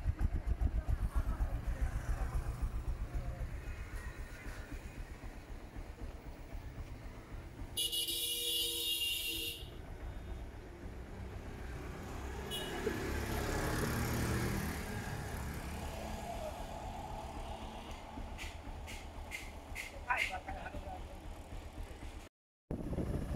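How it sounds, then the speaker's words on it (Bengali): A Honda X-Blade motorcycle is ridden on the road, its engine droning steadily at low pitch, with a burst of wind or handling noise, a few short clicks and a brief dropout along the way. "তো আমি একা একাই বাইক চালাচ্ছি এবং ভিডিও করছি"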